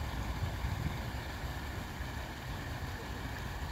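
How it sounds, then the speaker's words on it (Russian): Small waterfall at a sluice in Lianozovo park, Moscow, with water rushing steadily and continuously at close range, a dense broadband roar with no pauses. "Это водопад."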